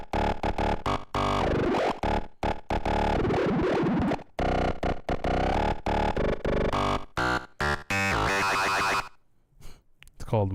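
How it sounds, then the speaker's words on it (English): A Yamaha DX7 synthesizer plays the modem lead patch in choppy, stuttering bursts of buzzy, distorted electronic tones with warbling pitch sweeps, ending in a sustained glassy tone that fades away. "It's called modem lead."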